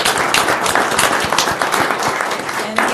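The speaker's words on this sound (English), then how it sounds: "But invite a round of applause" Dense, steady applause from a room of people at a county board of commissioners meeting, continuous clapping filling the whole stretch with no break.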